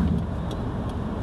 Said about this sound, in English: Why are all of these cars going so fast?